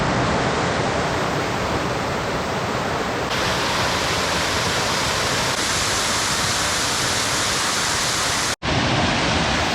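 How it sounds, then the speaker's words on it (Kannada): A forest waterfall near Kalasa, Chikkamagaluru rushes in a loud, unbroken hiss of falling water that fills the whole stretch, heard alone with one brief dropout near the end. "ಇನ್ನೇನು ಫಾಲ್ಸ್ ಹತ್ರನೇ ಇದ್ದೀವಿ, ಸೌಂಡ್ ಕೇಳಿಸ್ತಾ ಇದೆ"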